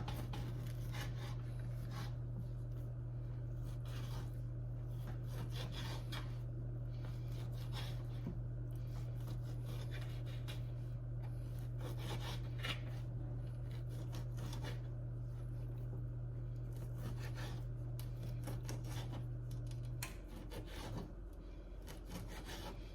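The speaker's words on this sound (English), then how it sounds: "You're going to cut the bacon up. Now, I cut mine down the middle" A knife saws through raw bacon on a cutting board, a close, continuous scraping and rubbing over a steady low background hum.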